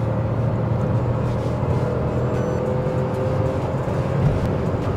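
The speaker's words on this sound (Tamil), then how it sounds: "இந்த வண்டியோட எக்ஸாஸ்ட் கூட கொஞ்சம் ஸ்போர்ட்டியாக இருக்குங்க" Steady engine and exhaust drone from a Citroen Basalt SUV coupe while driving, a continuous close rumble with road noise and no talking.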